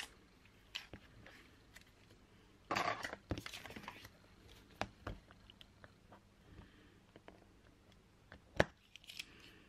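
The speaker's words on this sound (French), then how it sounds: "maintenant, on va venir couper un des côtés, comme ça on va venir rejoindre aux deux morceaux" Scissors snip through paper while a card is made, a few short close crisp cuts among quieter rustling and handling, faint overall.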